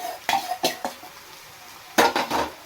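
Dwarf copper leaf mixed with toor dal being stirred in a pan for a fried curry, with a few distinct scraping clatters of a utensil against the metal in two short bursts, close and fairly loud with quiet gaps between.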